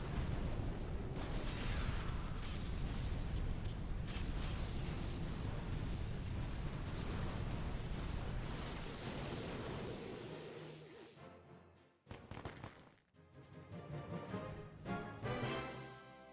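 Rocket launcher explosions rumble through a video game battle, a dense sustained roar of blasts that thins into scattered separate booms near the end.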